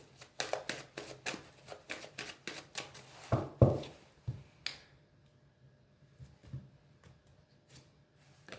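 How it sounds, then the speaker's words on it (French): Tarot cards are laid one by one onto a table, giving a quick series of crisp, close slaps and clicks that thin out into a few scattered soft taps, with no talking. "on va mettre des cartes dessus pour plus d'informations"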